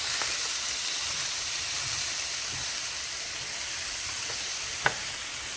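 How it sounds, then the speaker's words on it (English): Fried rice stirred in an oiled pan gives a steady, soft sizzle with faint hissing, plus a few light scrapes of the utensil and one sharper tap near the end. "now we have added the fried rice to our pan. We're just gonna stir it around."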